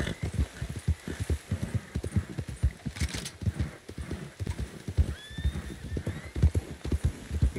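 Hooves of several horses in the video game Red Dead Online pound in a fast, rhythmic galloping clatter, close and steady, with a brief whinny partway through and no talking.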